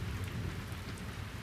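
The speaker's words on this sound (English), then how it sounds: "The rain fell all night." Steady rain falls through the night beside a river house, a dense continuous hiss with low rumbling that suggests distant thunder, loud and even throughout with no voices.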